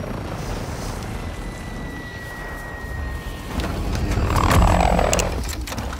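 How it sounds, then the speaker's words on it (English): Helicopter flying in Call of Duty Modern Warfare 2, a loud steady rotor roar swelling louder toward the end amid game sounds. "Fucking helicopter, so loud"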